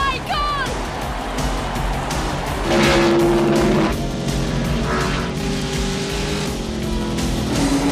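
Stock cars racing at Daytona as Colt Trickle chases Rowdy's number 51, loud roaring engines and rushing wind with rising and falling passes, under excited talk.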